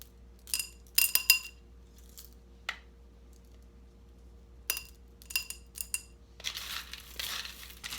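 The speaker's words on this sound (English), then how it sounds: "I'm going to put the same mix in, the multicolored rock mix." Multicolored decorative rock mix poured into a glass planter for succulents, heard as several short bursts of clinking, rattling pebbles against glass separated by quiet gaps, ending in a longer trickling rush of stones.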